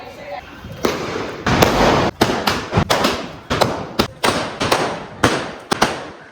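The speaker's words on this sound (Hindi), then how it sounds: "अब हम चलाने जा रहे हैं 25 शॉट्स।" A 25-shot Diwali firework cake fires a rapid series of sharp, loud bursts, roughly a dozen booms spaced under a second apart, each with a crackling tail; a festive family celebration, with voices faintly present between shots.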